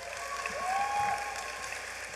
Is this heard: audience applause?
yes